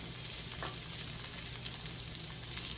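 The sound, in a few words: whole branzino fish searing in a pan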